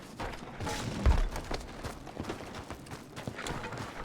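Horse hooves clop in a Wild West roleplay video game, an irregular run of close, dull thuds with a louder knock near the start, played over a quiet background.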